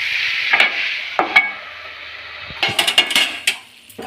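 Clams in masala sizzling in a pan on a low flame, a steady frying hiss broken by several sharp scrapes and clinks as a spoon stirs.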